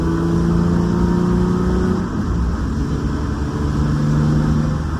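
A Nissan 350Z sports car engine drones loudly and steadily, its pitch holding then shifting slightly as it revs.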